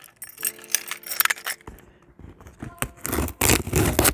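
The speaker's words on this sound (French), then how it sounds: "On va prendre les clés. Et puis, on va ouvrir ça." Keys jangle and scrape against a Geekabox package as it is opened, with rustling and tearing of the box in the second half.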